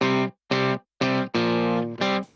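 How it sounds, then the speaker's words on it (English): Electric guitar riff through a THU amp sim on a distorted Push Tally preset, five loud chugging chords in a stop-start rhythm with sharp silences between hits, played alone. "I'm using the THU amp sim to get the tones. The main riff is on this preset called Push Tally."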